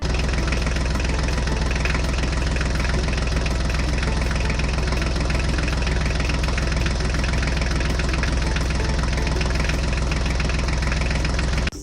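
A Mahindra tractor engine runs continuously, a loud, steady diesel chug with a dense knocking rumble and strong vibration throughout, with no voices.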